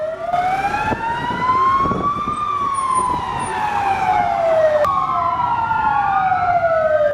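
Wailing sirens of a police-escorted parade of famous film cars rise and fall in long sweeps, several overlapping, loud and close with traffic rumble underneath.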